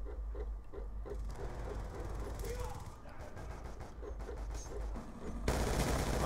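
Rapid automatic gunfire in the Black Ops 2 shooter game, bursts of repeated shots over a steady background, with a player's voice talking intermittently.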